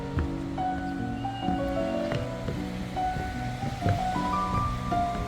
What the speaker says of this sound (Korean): 이 파도는 크네.